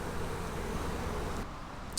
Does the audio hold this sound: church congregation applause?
no